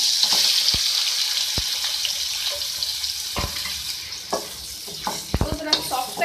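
Green chilies and tomatoes fry in hot oil with a steady, broad sizzle, broken by several sharp clicks and scrapes of stirring that grow busier toward the end.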